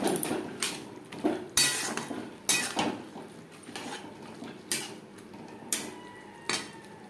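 Vegetables stirred into a pan of part-cooked chicken for homemade chicken egg chow mein, with sharp metallic clinks and scrapes of a utensil against the pan at irregular intervals over a faint sizzle, close by and without speech.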